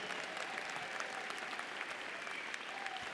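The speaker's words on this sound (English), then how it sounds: "Please join me in applauding those graduates" A large crowd at the UIC College of Medicine 2017 spring commencement applauds the graduating class, a thick, continuous wash of clapping that stays even and sustained throughout.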